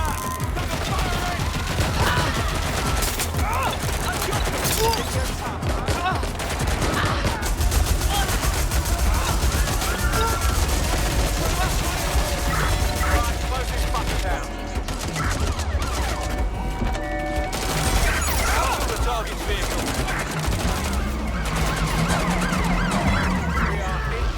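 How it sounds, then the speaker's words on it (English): Watch Dogs: Legion gunfire during a chaotic firefight, with sustained bursts of shots mixed with wailing sirens, explosions and shouted voices, loud and dense throughout. "Incoming fire!"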